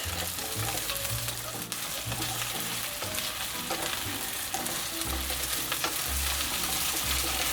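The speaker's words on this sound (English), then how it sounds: "And then we add our Arbi or arrowroot into it" Taro root (arbi) sautés in a pan, giving a loud, continuous close sizzle and crackle with occasional stirring scrapes and no voices.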